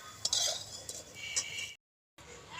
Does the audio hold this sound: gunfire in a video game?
no